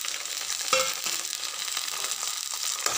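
Tomato pieces fry in a hot pan for a variety upma, a Rayalaseema-style dish, with a steady dense sizzle and a few small crackles and clicks throughout.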